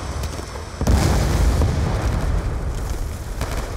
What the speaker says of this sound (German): Ja, das Flugzeug ist explodiert.